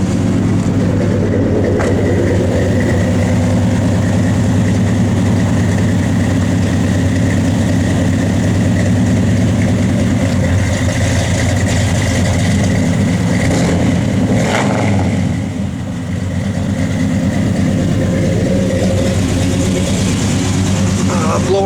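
A 1967 Chevrolet Chevelle SS engine idles steadily and loudly close by, a continuous low rumble with a slight swell in the middle, while people talk over it.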